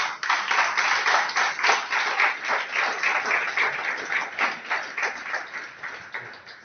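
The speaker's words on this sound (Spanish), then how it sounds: "¿Puede volverle a dar un aplauso al Señor?" A church congregation claps together during an evening service, individual hand claps audible in a quick, fairly rhythmic pattern that stays moderately loud and fades slightly toward the end.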